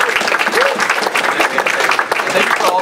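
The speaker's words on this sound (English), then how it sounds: "We have another round of applause" Loud, dense applause from a lecture audience, continuous clapping throughout with a few voices mixed in.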